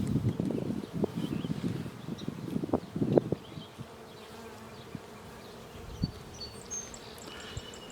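Honey bees buzz in a queenless hive during requeening, a low hum with handling knocks and bumps at first, then a fainter, steadier drone.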